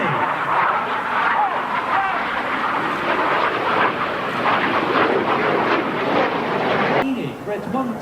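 The Red Arrows display jets fly in a box formation over Arbroath in 2016, a loud, sustained roaring rumble that fills the whole stretch, with a commentator speaking over it.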